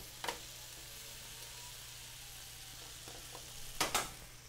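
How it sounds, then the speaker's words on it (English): Tomatoes, artichokes and garlic browning in a pan over medium heat: a faint, steady sizzle, with short utensil clatters near the start and again near the end. "We are currently browning the tomatoes, the artichokes, the garlic."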